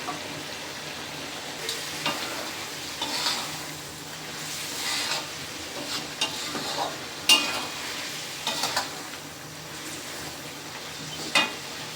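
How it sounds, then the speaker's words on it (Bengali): Fried bele fish going into a pan of cooked spice paste for a Bengali fish curry, giving a steady soft sizzle with occasional stirring scrapes and clinks, close and alone with no talk. "এখন আমি ভেজে রাখা মাছগুলো দিয়ে দিব।"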